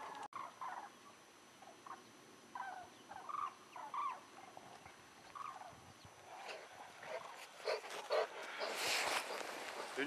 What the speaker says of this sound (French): vous entendez les grues là-haut?